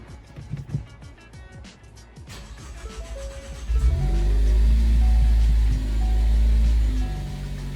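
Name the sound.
Ford Focus ST engine starting after Accessport install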